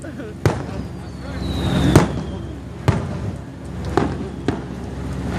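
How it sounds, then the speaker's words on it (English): Fireworks burst at Daytona International Speedway after rain delayed racing, with several sharp booming reports spaced a second or so apart over a rumbling outdoor crowd backdrop, and one whistling rocket trail rising early on. "Here's your biggest fireworks in Talladega, Tennessee."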